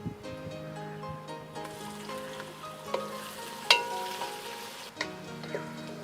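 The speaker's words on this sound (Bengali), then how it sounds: "এবার পেঁয়াজটা দিয়ে দিই।" Onions hit hot oil in a pan and sizzle steadily at close range, with stirring scrapes and a few sharp clinks over the continuous frying hiss.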